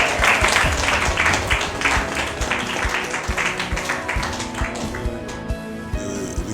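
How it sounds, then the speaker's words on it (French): A church congregation at a Sunday service in Treichville applauds the Lord, with steady dense hand clapping that fills the room and carries on throughout at a lively, even pace. "Est-ce qu'on peut acclamer le Seigneur?"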